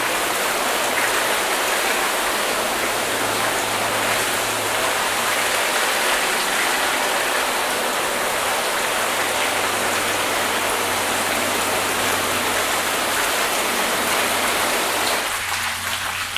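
A water rinse sprays over ceramic-coated car panels, a loud steady hiss of spray with a low hum beneath it that continues throughout. Near the end the tone shifts slightly as the stream moves.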